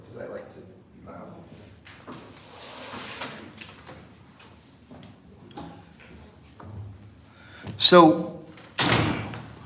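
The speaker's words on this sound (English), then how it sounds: "let me close this door before, because I like to be loud" An indoor door is pulled shut with a sharp latch click followed by a loud thud, coming after a stretch of someone talking nearby.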